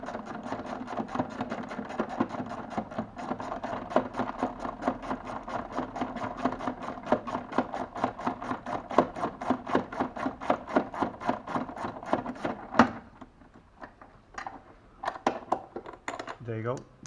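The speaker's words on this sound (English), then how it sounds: "Using a ratchet to remove these bolts makes your life a lot easier." A ratchet working bolts loose on the air filter housing of a Mahindra Scorpio, a fast even run of close metallic clicks for several seconds, then a pause and a few scattered clicks and knocks.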